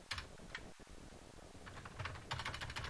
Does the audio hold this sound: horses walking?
no